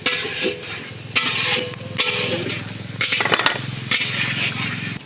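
Whole cardamom, cloves, cinnamon, bay leaf and onion paste frying in mustard oil for a village chicken curry, a loud steady sizzle broken by several sharp scraping stirs.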